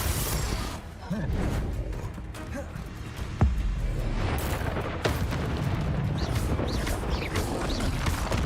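A Confringo blasting spell in a Harry Potter video game: a sharp blast bursts out over a dense rumbling wash of game sound, followed by continued booming effects.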